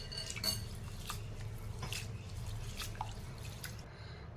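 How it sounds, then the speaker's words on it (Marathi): Rice grains swished and rinsed by hand in a bowl of water for anarase, with soft repeated sloshing, drips and light clinks of the vessel close by, steady throughout. "आता हा पहिल्यांदा मी 3 पाण्याने धुवून घेणार आहे."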